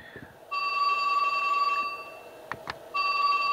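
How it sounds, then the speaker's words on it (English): A cell phone rings in a room, two long tonal bursts of its ringtone separated by a short gap with a couple of sharp clicks, fairly loud and with no talking over it. "Why is it every time I make a video my cell phone rings?"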